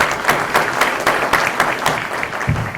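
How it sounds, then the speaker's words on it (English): A crowd claps steadily for a few seconds, a dense, even patter of hands with no voices over it. "Another round of applause."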